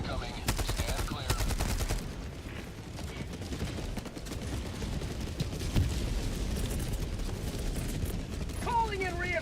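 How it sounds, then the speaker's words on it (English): Orbital barrage strikes in the video game Helldivers 2, a dense, continuous roll of explosions and rattling gunfire-like blasts that keeps up loudly for the whole stretch, with faint game voice lines in the mix. "Orbital barrage incoming."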